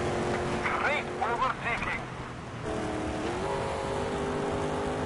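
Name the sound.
race car accelerating in video game TOCA Race Driver 3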